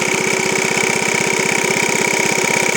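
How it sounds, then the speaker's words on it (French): A Honda walk-behind lawn mower engine running steadily at a fast, even idle, close and loud, with a continuous rapid pulsing putter and no voices over it. "le moteur il tourne plutôt pas mal"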